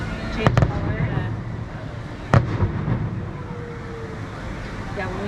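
A fireworks show viewed from the Grand Californian Hotel at Disneyland gives off a few sharp pops and bangs, some close together, over a constant rumble of crowd and traffic, while people chat nearby.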